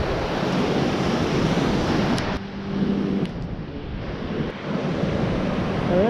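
Surf washes continuously onto Old Orchard Beach, heard up close as a steady broad rush with gusty wind buffeting the microphone, briefly dipping before swelling again.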